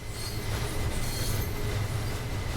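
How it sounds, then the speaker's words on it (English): Railway carriages on the Bernina line in the Train Sim World video game rattle and clatter loudly, a dense continuous rumble with metallic squealing running through the whole short stretch. "The carriages that we're hauling still sound like shopping trolleys being pushed downstairs."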